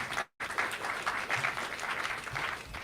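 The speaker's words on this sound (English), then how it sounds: "Give yourselves a massive round of applause." An audience at a games industry event in Edinburgh gives a sustained round of applause, steady clapping from many hands after a brief gap at the start.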